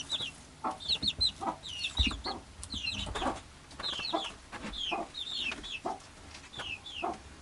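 Backyard chickens clucking and calling in a coop at roosting time in mid August, a steady run of short, busy clucks and chirpy calls close by, with no talking.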